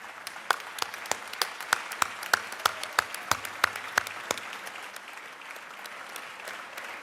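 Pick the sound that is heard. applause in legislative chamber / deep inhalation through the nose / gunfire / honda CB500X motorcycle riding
applause in legislative chamber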